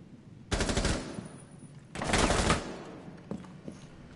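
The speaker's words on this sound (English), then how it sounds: "Shoot me with the stampede, bro." Stampede machine gun firing in a video game, in two loud sustained bursts of rapid fire followed by a few fainter isolated shots.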